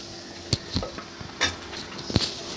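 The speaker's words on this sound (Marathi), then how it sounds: "आता आपण डाळ टाकून घेऊया." Dal goes into a pot of spices while dalcha cooks, giving a few sharp metallic clinks and scrapes of a spoon against the pot over a soft sizzle, close and sparse.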